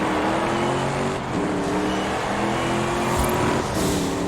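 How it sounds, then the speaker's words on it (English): A Ford F450 dually with a diesel engine drives in the video game Forza Horizon 5, a loud, steady engine drone with a deep hum held close throughout and a slight dip in pitch partway. "That diesel engine actually sounds so sick in there."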